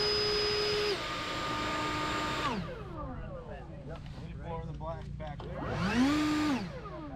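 Toro commercial battery backpack leaf blower running, its fan whine sliding up and down in pitch as it speeds up and eases off, with someone talking close by over the steady airflow.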